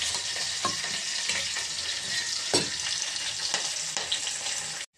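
Steady, loud sizzling of spices tempering in hot oil in a pan before boiled tomatoes go in, with a few soft scraping stirs, running continuously until it cuts off at the end.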